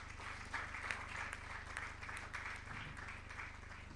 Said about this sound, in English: And one more round of applause for Dr.